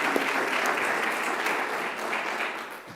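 An awards-night audience claps for winners and finalists, a short burst of steady, dense applause filling the room from start to finish.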